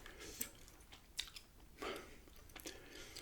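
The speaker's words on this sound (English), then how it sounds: "And yes, I just like chewing the gum." Gum being chewed close to the mic, with soft wet smacks and a few sharper bites spaced irregularly through a quiet background.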